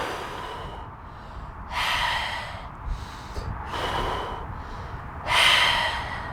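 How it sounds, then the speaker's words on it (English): Slow, audible breaths drawn in and pushed out through the nose during outdoor Ashtanga yoga near the Golden Gate Bridge in San Francisco, several breaths with quiet gaps between them, close to the listener. "Breathing."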